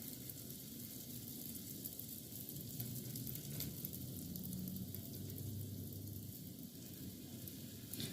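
Dumplings fry in oil in a pan on a stove, giving a steady, close, broadband sizzle that keeps going without pause and with no talking.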